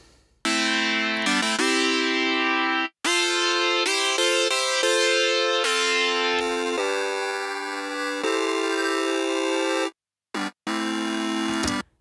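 Clean synthesizer line in an 80s video game retro style before bit crushing, bright sustained tones in short phrases with a few brief gaps, then a longer held chord, loud and alone.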